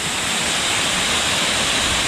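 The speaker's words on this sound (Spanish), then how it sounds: "Ya la catarata, pero vaya para allá." A waterfall with rushing water roars loud and steady, a dense unbroken wash that fills every moment with no voices heard.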